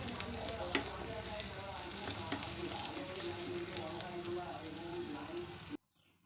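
Asafoetida and amaranth greens sautéing in a pan, a steady close sizzle with stirring scrapes that runs for several seconds before cutting off abruptly.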